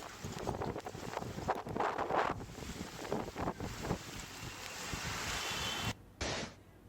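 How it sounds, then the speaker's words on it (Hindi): Strong, gusty wind roars during a hailstorm in Nainital in early May, buffeting the microphone loudly and continuously before briefly dropping out and returning near the end; no voices. "तेज हवाओं के साथ जमकर ओलावृष्टि हुई है"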